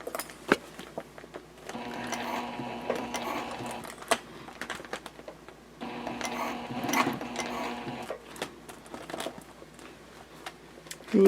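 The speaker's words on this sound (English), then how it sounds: "you can see that I am sewing from the side panel" A sewing machine runs along the side panel of a jelly vinyl pouch in two fairly quiet, sustained bursts of stitching, with scattered small clicks and handling noises between them.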